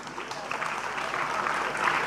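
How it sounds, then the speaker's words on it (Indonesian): Audience applause for Pak Agus at a school gathering at SMA NU Gresik, a steady moderate clapping that swells slightly toward the end with a voice faintly under it. "Tepuk tangan buat"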